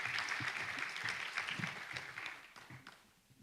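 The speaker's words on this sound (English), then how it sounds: "Let's give a round of applause." Audience applause at an international customs conference in Indonesia, a dense patter of clapping that starts fairly full and thins out and fades over a few seconds, with no talk over it.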